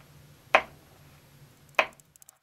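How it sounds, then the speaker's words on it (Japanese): Kitchen knife roughly chopping cashew nuts on a board, two distinct, crisp chops about a second apart followed by a few faint quick taps, close and clear in a quiet room. "カシューナッツ 30g を包丁で粗く刻んでください"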